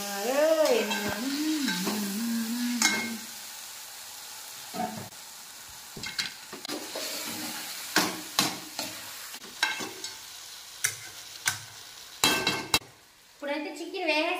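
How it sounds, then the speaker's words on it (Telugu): Marinated chicken with yogurt is stirred in a pot while it fries, a steady sizzle broken by repeated metal clinks and scrapes of a spoon against the pan. It is close and fairly loud, with no talking. "ఇప్పుడైతే మనం మ్యాగ్నేట్ చేసుకున్న చికెన్ వేసేద్దాం."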